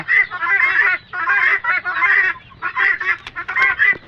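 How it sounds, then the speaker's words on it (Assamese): Kadaknath chickens and other farm poultry, including guinea fowl and turkeys, give loud, close, repeated honking calls in quick bursts with short gaps between them. "এইবিলাক হ'ল আমাৰ কৰকনাথ মুৰ্গী"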